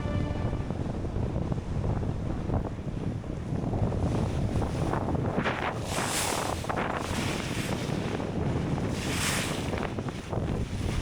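A large motorboat passes fast and close on open water near Urk, its engine roar and bow wake swelling over steady wind and wave wash.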